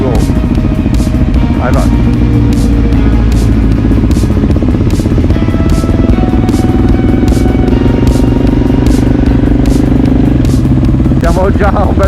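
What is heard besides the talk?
group of motorcycles setting off on a ride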